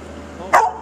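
A dog gives a single sharp, close bark that rises out of quiet background noise and trails off quickly.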